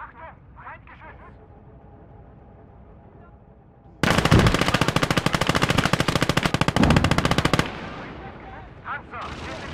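Enemy machine gun fire in a WWII video game set during Operation Lüttich: one loud, rapid, continuous burst of gunfire lasting several seconds, with quieter battle ambience and brief radio-like sounds before and after.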